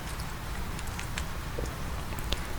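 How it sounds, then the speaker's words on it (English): Soft, steady rain falls outside a tavern, a continuous gentle patter with faint scattered drips, close and even throughout with no voices. "Outside, the rain continues, soft, steady, like a lullaby."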